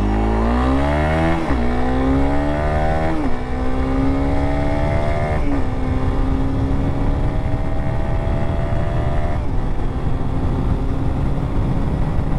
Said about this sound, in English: let me try 0 to 60 again, slight downhill this time, and I'll try revving it out a little bit more